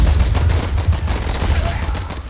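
Machine gun fire in a World War I trench warfare video game, a dense rapid clatter of overlapping shots with heavy low thumps, loud and continuous throughout.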